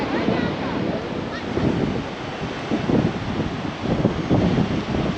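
Sea waves roll onto the wide beach at Essaouira, Morocco, beside the old sea walls, a steady washing surf mixed with wind buffeting the microphone across the whole stretch.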